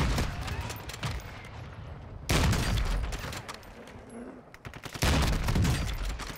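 Gunfire in a first-person shooter match with a sniper rifle, loud sharp reports in quick bursts and clusters with low booming tails, several heavy shots landing close together over the game's background noise.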